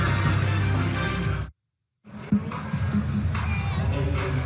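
Whiteout home crowd in a Colorado State college basketball arena against Boise State, a loud roar of cheering and shouting, cut off briefly by a sudden gap of silence before the noise resumes.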